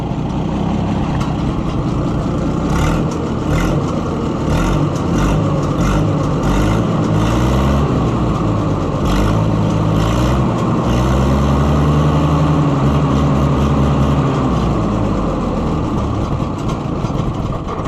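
An Oliver 1655 tractor engine idles loud and close, a steady heavy rumble with slight shifts in pitch as the idle wavers, running throughout with no talk.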